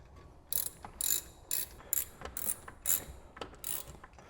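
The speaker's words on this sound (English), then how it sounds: "The ratchet out." A hand ratchet clicks in about eight quick bursts while driving new brake bolts on a 2004–2008 Acura TL rear brake rebuild, close and clear with no talking.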